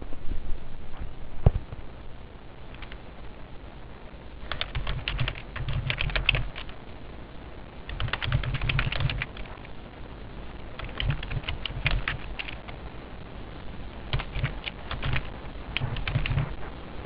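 Computer keyboard typing while entering accounting data into software for a practical exam, coming in irregular bursts of quick keystrokes with short pauses, fairly close and moderate in level, with no talking.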